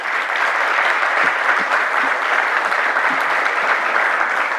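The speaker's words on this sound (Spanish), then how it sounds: "Otro aplauso para ellos y ellas." Steady, dense applause from the audience at a social sciences and human rights panel, a continuous even roar of many hands with no pauses and little speech.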